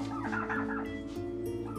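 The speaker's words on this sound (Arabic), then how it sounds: "قصدك الديك الرومي؟" A turkey gobbles in a quick, warbling burst of rapid calls at moderate distance over a steady background hum, with no one speaking.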